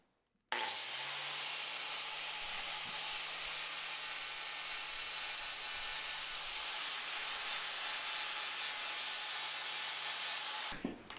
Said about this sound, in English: I'm gonna polish up all these welds and make them look nice and shiny.